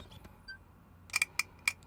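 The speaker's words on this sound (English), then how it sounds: "So this is the old leaf shutter sound." A few soft mechanical clicks, then four crisp metallic snaps of an old Hasselblad camera lens leaf shutter in quick, uneven succession, close up and otherwise quiet.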